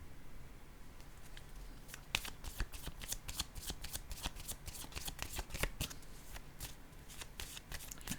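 Tarot cards shuffled by hand, close and quiet, a rapid series of crisp riffling slaps and flutters following a brief lull.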